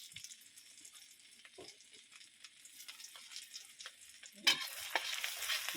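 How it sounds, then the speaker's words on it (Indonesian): Rice frying in a pan at home, a soft, steady sizzle with light stirring scrapes, growing louder and busier near the end, with no talking. "Saiki genten nggo goreng sego."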